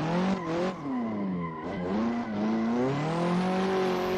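A Nissan S13 drifting on a lake touge circuit gets back on the throttle, its engine revving up and down under a loud sustained tire squeal that holds and rises, close and continuous.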